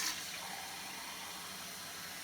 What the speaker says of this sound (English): I'm going to put more water.